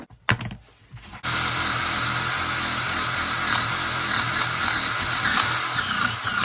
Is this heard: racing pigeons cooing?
no